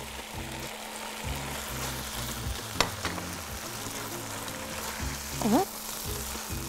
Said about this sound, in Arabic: الفراخ اتحمرت كده كويس قوي، نزحها كده على جنب، نحط فص ثوم ومعاه كمان بصل